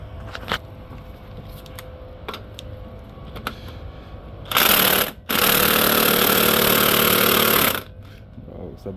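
Bolt on a motor mount bracket of a Toyota Camry Solara being loosened with a socket on a long extension: quiet ticks and clicks, then a loud, harsh mechanical burst lasting about three seconds after a brief break.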